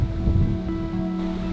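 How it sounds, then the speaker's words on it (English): Strong wind buffets a mountain cliff top, a steady loud roar with low gusty rumble and a faint tonal whistle running throughout. "Look how windy it is"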